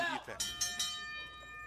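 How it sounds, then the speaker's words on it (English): A wrestling match bell rings several times in quick succession, with bright metallic clangs that ring on and sustain under a commentator's speech. "And there goes the bell."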